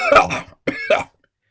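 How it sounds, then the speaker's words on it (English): Two or three harsh, close coughs in quick succession, then silence. "Nero coughs and walks out."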